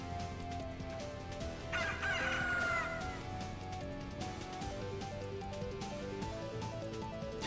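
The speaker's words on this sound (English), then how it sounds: "woken up to a rooster or heard one in close proximity do a full screech" A rooster crows once in The Legend of Dragoon, a loud drawn-out call over a looping game soundtrack, followed by quieter clucking-like tones as the music carries on.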